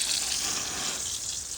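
Water splashing and spraying across the floor of a village house, a steady close hiss of droplets hitting the ground without pause, no voices.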